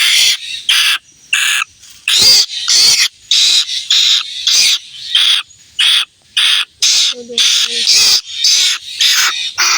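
A rescued bird, nursed back to health, gives loud, repeated harsh calls in quick bursts with short gaps between them, close and alone.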